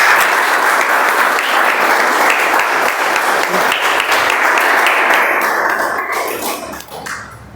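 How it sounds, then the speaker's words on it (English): Audience at a Toastmasters meeting bursts into sustained, dense clapping that stays loud for several seconds before thinning and fading out toward the end. "Clap should go on, ladies and gentlemen"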